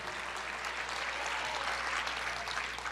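Audience applause fills a church service, a dense, steady clapping that stays loud and even throughout without any voices on top.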